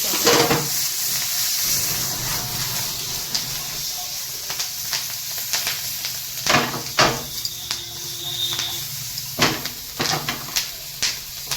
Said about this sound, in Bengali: আমি অল্প তেল দেব অল্প আর আমি বাটারটা দিয়ে রান্না করব